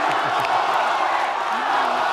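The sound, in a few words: audience applause and cheering at presidential debate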